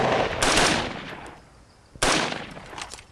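Two bursts of rapid automatic gunfire, likely an M60 machine gun, in a combat setting, a dense rattling volley followed by a short gap and a second loud sustained burst.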